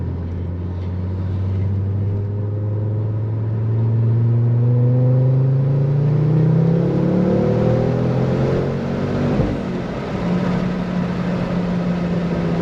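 A Ford Focus RS 300++, a front-wheel-drive hot hatch, accelerates hard on the road, its engine note rising steadily through the revs and easing at a shift before pulling again, loud and continuous with no talk.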